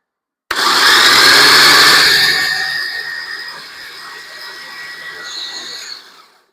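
An electric food chopper whirs loudly as it chops crackers, starting abruptly with a harsh high-pitched buzz that eases slightly after a couple of seconds and keeps running steadily for about five seconds before cutting off.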